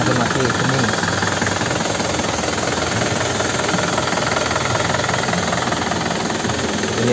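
A 2014 Isuzu Panther Grand Touring engine runs at a steady, even idle with a fine knocking chatter, close and constant throughout.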